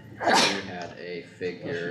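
A single sharp sneeze bursts out close up during a county board of supervisors meeting, followed right away by someone speaking.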